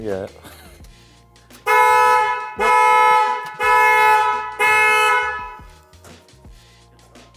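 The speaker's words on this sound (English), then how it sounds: "That was the alarm test." A barn-find sportscar's alarm test: the horn blasts four times in a regular rhythm, each sustained blast about a second long and very loud, with brief talk heard before the blasts.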